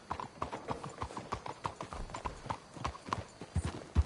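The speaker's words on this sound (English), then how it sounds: "Let's hitch your horses up ahead." In Red Dead Redemption 2, several horses walk along with a continuous, overlapping clip-clop of hooves, moderately close and steady, heard alone without voices.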